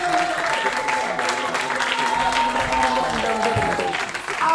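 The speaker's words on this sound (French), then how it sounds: "Applaudissements, s'il vous plaît, amis du public." Audience applause at a slam poetry tournament, steady clapping from a crowd throughout, with a voice speaking over it.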